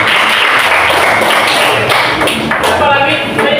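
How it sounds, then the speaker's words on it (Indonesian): Classroom applause from students, a dense patter of clapping that holds steady before thinning out near the end, loud and close. "Bagus, berikan aplaus."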